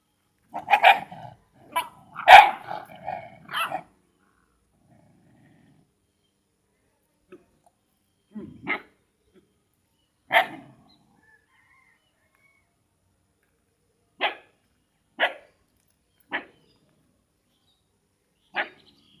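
A dog barks in a cluster of loud, close yaps early on, then gives sparse single barks spread out over the rest of the quiet stretch.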